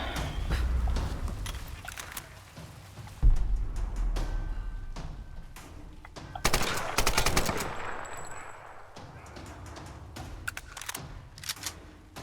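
Gunfire from the video game Tomb Raider: a run of sharp shots and bursts spread across the scene, with stronger blasts near the start and middle over a dense game-sound background.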